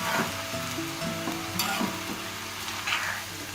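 Blood fry sizzling steadily in a pan over a low flame, a continuous crackling hiss with small pops and a faint scrape of stirring, no voices.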